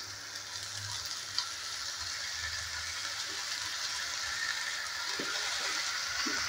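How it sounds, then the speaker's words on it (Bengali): Fenugreek greens being stirred into frying eggplant in a pan, a steady soft sizzle throughout with occasional light scraping and stirring taps, close and moderate in level. "মেথি শাকটা দেওয়ার পর ভালো করে নেড়েচেড়ে নিচ্ছি।"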